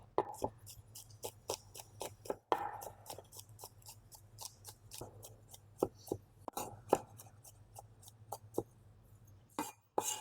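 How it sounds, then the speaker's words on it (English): A knife finely chops garlic on a board in quick, crisp taps. The taps run in steady bursts with short pauses over a low background hum. "Chop this garlic up quite finely."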